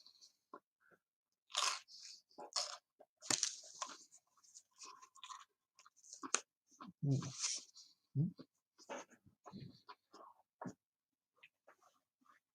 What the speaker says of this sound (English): I'll take a crunch off of this now.